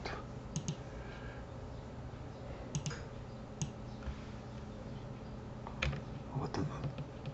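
Computer keyboard keys are pressed in a few scattered bursts of sharp clicks during Cinema 4D modelling work, close and fairly quiet over low background hum.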